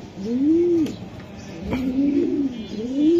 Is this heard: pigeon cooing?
yes